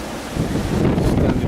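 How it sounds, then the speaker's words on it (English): Strong wind gusts buffet the microphone in a dense, roaring rush that swells louder after a moment, with a brief spoken word underneath. "It's so windy"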